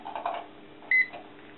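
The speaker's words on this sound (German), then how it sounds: "Ein Piepton ertönt" A single short electronic beep from a Joyoung soy milk maker sounds briefly over quiet background hum, with faint clatter just before it.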